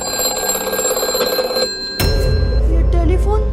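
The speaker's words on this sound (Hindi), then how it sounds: "टेलीफोन कैसे बज रहा है?" An old telephone with no wire attached rings in a school, a loud electronic bell tone with steady ringing that breaks off, followed by a sharp change to a lower rumbling sound.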